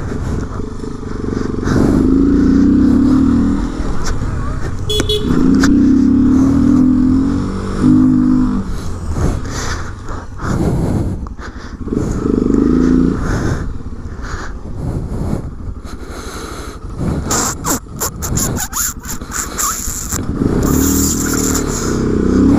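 A Honda XRE 300 motorcycle revs hard in repeated bursts during wheelie riding, its engine close and loud, surging and dropping with clattering mechanical noise throughout and no talk over it.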